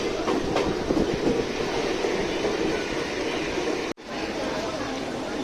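A Mumbai local train rumbles along after heavy rain, a steady loud clatter of wheels and carriage noise from inside a crowded coach with chatter beneath, briefly dipping before continuing.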